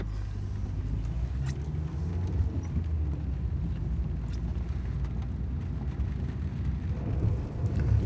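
Steady, dense rain noise with a low rumbling wash underneath, constant and fairly loud throughout, no voices.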